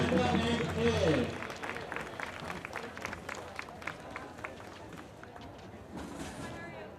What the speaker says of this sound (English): One more round of applause for Christoph.